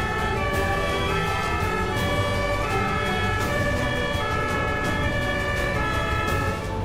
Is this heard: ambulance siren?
yes